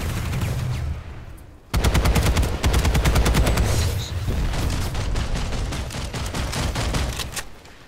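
Rapid sustained chain gun fire in the sci-fi shooter Planetside 2, a fast steady stream of loud close shots running almost the whole way, with brief weapon or explosion noise before it kicks in.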